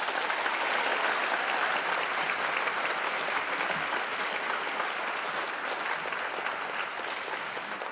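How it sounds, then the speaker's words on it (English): Sustained audience applause fills a high school gymnasium or auditorium during a Veterans Day assembly, dense and even for nearly eight seconds, many hands clapping together with no speech on top. "I would also like to give a huge round of applause to Ashton Marcy, who has put on an amazing program"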